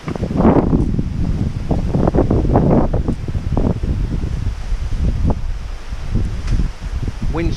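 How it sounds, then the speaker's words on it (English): Strong gusting wind buffeting the microphone beside a channel of water, a loud continuous roar with rumbling surges and faint rustling. "Wind's changed direction a little tiny bit now, which is making it even worse"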